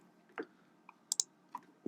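Mouse clicks made while editing song slides in ProPresenter 7 presentation software: several sharp, quiet clicks spaced irregularly, close to the microphone, with no talking.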